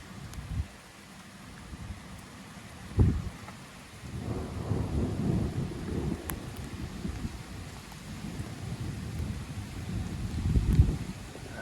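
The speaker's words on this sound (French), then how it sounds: "Du bon tonnerre comme on aime." Rolling thunder from a violent thunderstorm in Metz rumbles in long low swells over steady rain, with a sharp closer crack early on and another heavy peal near the end.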